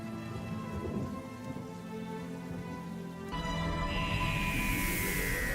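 Steady heavy rain falls throughout a Doctor Who scene, a dense hiss that swells louder midway, with a faint rumble of thunder and a soft musical tone underneath.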